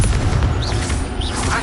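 A Confringo blasting spell in Hogwarts Legacy, loud and close, a rumbling booming burst of explosive noise filling the moment with a couple of faint whooshing spell flourishes on top.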